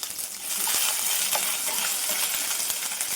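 Onion and tomato puree with ginger garlic paste frying in a pan, a steady bright sizzle with scattered small crackles and pops running throughout, close and fairly loud.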